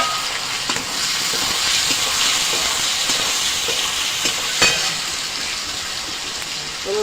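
Onion and garlic fry in hot oil in a pan, a loud, dense, continuous sizzle with occasional soft scrapes as they are stirred.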